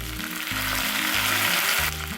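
Curry leaves dropped into hot coconut oil with mustard seeds, onion and red chillies for a Kerala jackfruit sambar, bursting into a loud, close spitting sizzle that swells midway, backed by faint music.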